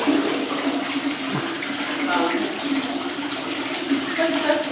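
A hot water tap runs in a London home, a steady, close, even rush of water pouring continuously with no breaks.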